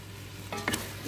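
Okra and potatoes are stirred in a pan with tomato paste, producing a short soft scrape and a light clatter over a steady low sizzle.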